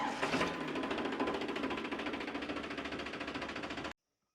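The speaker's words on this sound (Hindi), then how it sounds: "पुराना ट्रैक्टर है जो। अरे देखो तो सही, चाबी चले भन भनाट ट्रैक्टर है।" An old tractor engine runs with a fast, even mechanical chugging, loud and close, and then cuts off abruptly near the end.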